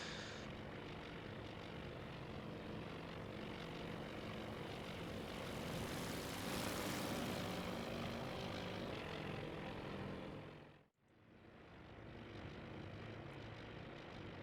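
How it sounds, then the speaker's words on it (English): Carrier aircraft taking off in the naval strategy game Task Force Admiral, a steady, dense drone of propeller engines that swells in the middle, cuts out abruptly, then resumes. "Whilst our aircraft are busy taking off"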